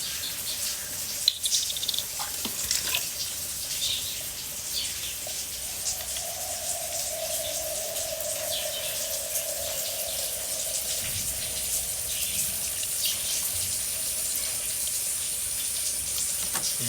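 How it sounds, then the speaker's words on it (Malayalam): Three-quarter cup of vinegar is poured into a homemade lawn-grass killing mixture, a soft steady liquid trickle heard for several seconds amid quiet background hiss. "ഞാനിപ്പോൾ ഇതിനകത്തുനിന്ന് വിനാഗിരി ചേർക്കാം."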